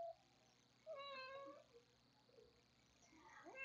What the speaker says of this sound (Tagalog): Sorry guys, may alaga kasi akong pusa.